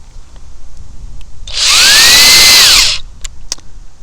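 Power drill turning a Cranach universal socket on a stripped bolt: a loud, close whine rises and holds for about a second and a half, then stops, with faint clicks before and after.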